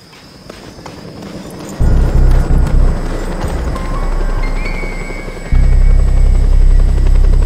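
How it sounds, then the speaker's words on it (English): A helicopter arriving in the action video game Just Cause 2, its loud rotor thump and engine roar cutting in suddenly and swelling closer in two surges, with no speech. "A chopper! Seems my ride's here!"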